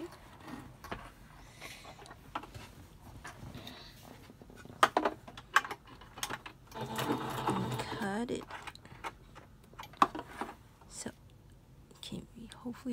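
A sewing machine stitches fabric for a face mask in short mechanical bursts of stitching, with a longer steady run in the middle, close by and moderately loud, while a person talks quietly in between.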